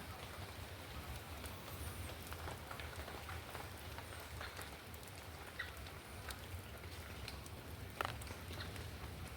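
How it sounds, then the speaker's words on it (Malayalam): Moderate rain falls steadily in a yard, a faint, even hiss of drops with a few soft patters standing out, with no voices. "ഒരുമാതിരി മഴ പെയ്യുന്നുണ്ടേ"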